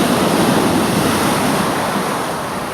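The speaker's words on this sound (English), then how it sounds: "I'm having to shout a bit because of the waves." Sea waves crash and roll onto Brighton beach, a loud, continuous surf roar with wind buffeting the microphone, easing slightly toward the end.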